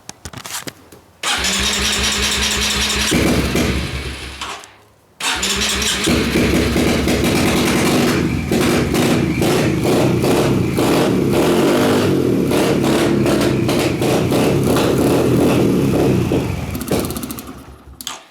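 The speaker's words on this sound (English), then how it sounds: "Pretty much have to start it with full choke though" An engine on full choke cranks and catches, cuts out for a moment, then restarts and runs loud and close, revving up and down with uneven surges before dropping away at the end.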